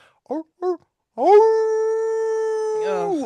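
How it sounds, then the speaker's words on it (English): A wolf howl echoing through town streets in a tabletop roleplaying session, rising into one long sustained howl after two short voiced bursts, loud and close. "howl of a wolf that fills the streets, that echoes in your ears"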